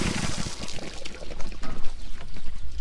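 Water rushing and gurgling through the inline filter system of a water trailer as it is flushed out, a loud continuous splashing flow with uneven surges.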